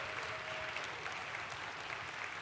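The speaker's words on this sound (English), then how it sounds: "Big round of applause, please." Audience applause after a first-time speaker's lightning talk at a Python developer conference, a steady, fairly faint wash of clapping across the whole stretch, with no one talking.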